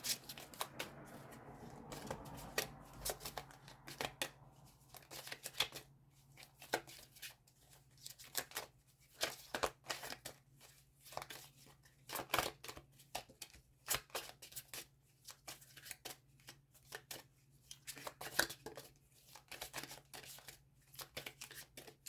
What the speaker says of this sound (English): I'm being led to keep shuffling, guys.